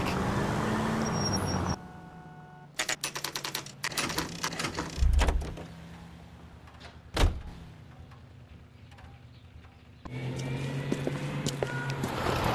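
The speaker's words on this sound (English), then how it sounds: "That's the car, Cole. Just pulling out of the drive." A car in the 1940s Los Angeles crime game L.A. Noire pulls out of a driveway: a low engine rumble runs steadily under scattered mechanical clunks and knocks, with one sharp bang midway and no talking.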